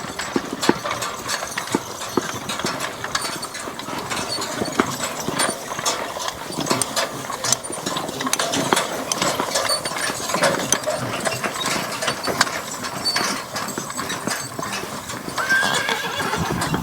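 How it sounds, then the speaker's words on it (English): An Amish horse goes past near a farm barn, a steady busy stream of hoof and road noise with a horse's whinny mixed in, continuous and moderately loud without talk. "That was an Amish guy going by with his horse"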